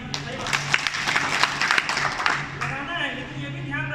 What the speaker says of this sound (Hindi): उनके लिए जोरदार तालियां दीजिए